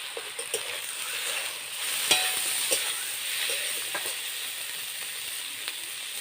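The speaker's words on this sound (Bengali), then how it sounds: "এবার আমি দিয়ে দেবো টমেটো কুচি, অল্প একটু লবণ দিয়ে দেব" Chopped tomato fries with ginger and garlic in a pan, a steady close sizzle with a few scattered ticks and faint stirring scrapes, with no voices.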